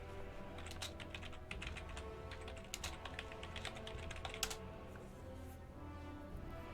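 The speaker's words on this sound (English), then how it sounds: "Oh, my terrible spelling there, trying to do quick typing" Quick typing on a computer keyboard during a Total War Warhammer live stream, a rapid, irregular run of light key clicks, close and fairly quiet, with no voices.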